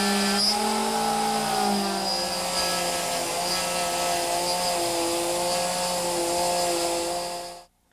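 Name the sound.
router with 1/2 inch bit cutting a recess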